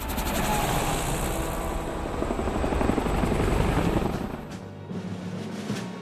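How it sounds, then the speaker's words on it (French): MH-60 Black Hawk and Little Bird military helicopters take off, rotors thumping loudly and close by, a dense steady chopping roar that fades off toward the end. "16 hélicoptères, 8 MH-60 Black Hawks et 8 Little Bird décollent"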